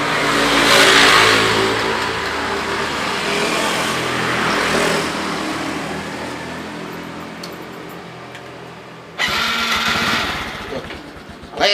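A motorcycle engine revs loudly up close, its pitch rising and falling, then fades before a second burst of revving cuts in sharply.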